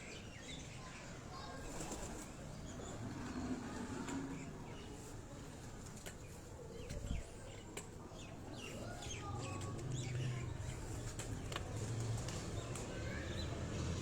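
Pigeons kept on a rooftop in Pindi flutter and call near an open window, with wing flaps, soft coos and clucking sounds over a steady low ambient hum, moderately loud throughout.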